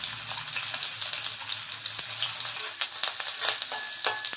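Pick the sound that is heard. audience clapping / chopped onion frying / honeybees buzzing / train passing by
chopped onion frying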